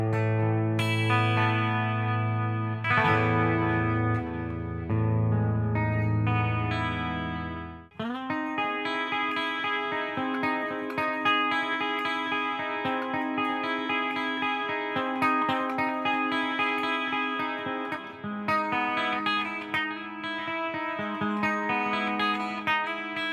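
A Fender Telecaster Mexican Standard electric guitar plays clean tones: a few sustained chords at first, then a steady run of picked notes and chords ringing close and clear, with no voices.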